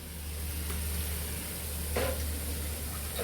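Leafy greens (shak) frying in a pan make a soft, steady sizzle. A couple of brief scrapes or clatters stand out, and nobody speaks.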